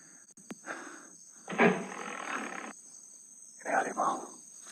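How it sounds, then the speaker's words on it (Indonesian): A tiger in the forest gives a few rough, breathy growls and roars at a distance, separate bursts over a steady high insect drone. "Ini harimau ini. Saya yakin ini harimau."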